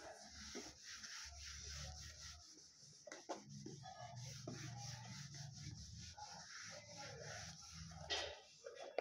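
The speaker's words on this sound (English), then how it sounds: "Let me rub the board." Rubbing a classroom board clean with repeated scrubbing strokes in a steady back-and-forth rhythm, close and fairly quiet, with no talking.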